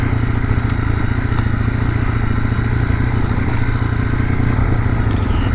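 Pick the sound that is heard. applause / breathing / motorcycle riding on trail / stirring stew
motorcycle riding on trail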